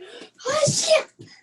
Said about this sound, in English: That was a sneeze, bless you.